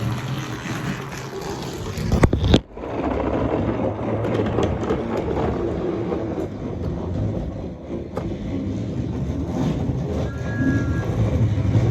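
A Talking Classic Thomas toy train runs on its track pulling a string of cars, giving a steady, close rolling rumble with rattling clicks and a brief clatter early on, and no voices.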